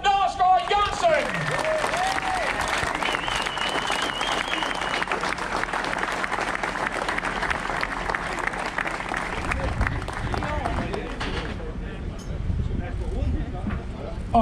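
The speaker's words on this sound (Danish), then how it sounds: "en øredøvende bifald til en ny danske mester" A crowd at the Danish women's road race championship podium ceremony claps in sustained, dense applause, heard under an announcer's amplified voice throughout.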